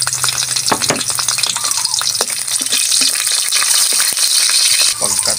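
Chili and onion are added to golden-browned garlic in a hot pan and sautéed, producing loud continuous sizzling and frying crackle with stirring clatter throughout, close up.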